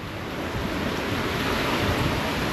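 Ocean waves wash against a sailboat at sea, a steady broadband rush of surf and wind, loud and continuous.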